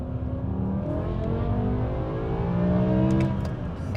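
A 2006 BMW M6 engine revving hard while driving, heard from inside: rising harmonic tones climb smoothly in pitch over a few seconds, loud and close, with a brief lift near the end.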